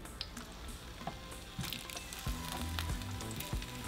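Tomatoes are laid cut side down in hot oil and fry with a soft, steady sizzle and crackle, with a few light pops and taps from placing them.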